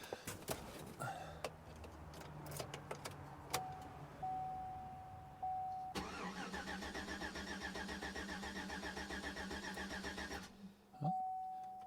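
A 2007 new-body-style Chevy Silverado, towed in with a suspected bad fuel pump, cranks steadily for several seconds without catching, with key and power-window clicks before and a chime tone at the start and end.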